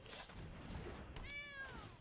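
A cat meows in a short, clear call, a single rising and falling tone heard faintly near the middle over a soft background.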